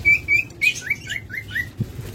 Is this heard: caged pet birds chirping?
yes